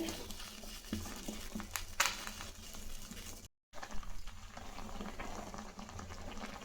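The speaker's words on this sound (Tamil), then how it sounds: "நான் கடாயிலேயே கொஞ்சம் உப்பு கொஞ்சம் எண்ணெய் ஊற்றி வேக வச்சுக்க போகிறது" Goat blood simmers with salt and oil in a kadai over a low flame, giving a steady, close bubbling and patter that runs throughout apart from a brief dropout midway.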